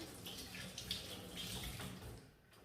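A kitchen tap runs steadily while a lemon is rinsed beneath it, giving a close, even hiss of flowing water that thins out near the end.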